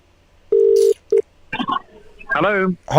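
Telephone dialing tones sound as two clean beeps during a live radio call, followed by a voice talking on the line.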